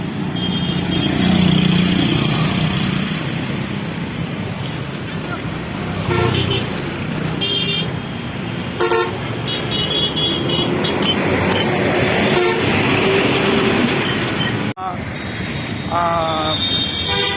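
Eid holiday traffic jams the Padma bridge toll plaza on the highway. A dense, steady roar of idling and creeping vehicles fills the scene, with repeated short horn toots scattered throughout and a voice speaking over the din.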